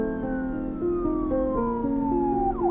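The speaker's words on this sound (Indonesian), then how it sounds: "sementara dari kejauhan terdengar sirene mobil polisi" Police car siren wailing continuously, with a steady rising-and-falling tone that sweeps down at the end, fairly clear and unaccompanied by voices.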